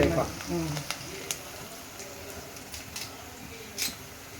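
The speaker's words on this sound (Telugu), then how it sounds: "కొంచెం కరేపాకు వేసుకున్నాం" Curry leaves frying in a hot pan for a mango, gokarakaya and potato curry, a sharp sizzle bursting at the start and then settling into a lighter crackle with a few clinks.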